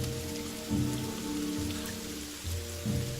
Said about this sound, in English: The rain continues and the caravan struggles to keep moving.